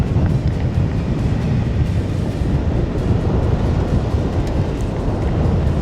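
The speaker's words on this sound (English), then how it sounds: "The wind's blowing at 9 miles per hour." Strong outdoor wind buffets the microphone with a constant loud, low rumbling roar and uneven gusty flutter that persists throughout, with no voices.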